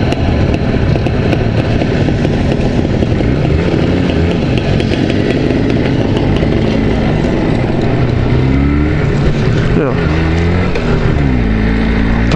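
A Jawa 350 motorcycle rides along, its loud two-stroke engine buzzing steadily up close, with throttle changes and revs rising and falling near the end.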